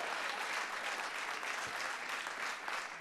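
Comedy club audience at a gay comedy show applauding steadily, a dense, even wash of many hands clapping throughout with no talk over it.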